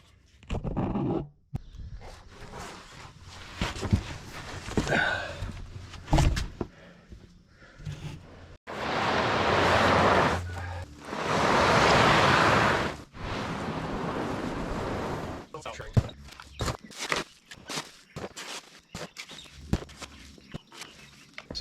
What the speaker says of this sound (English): I think I can power wash from here.